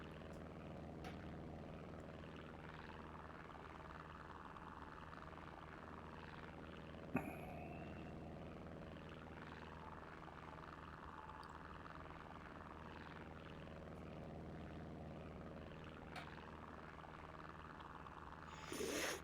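A de Havilland Tiger Moth biplane flies with its propeller engine droning at a steady, even pitch, heard from inside the open cockpit as a constant low hum that stays level throughout, with a couple of brief knocks and no talking.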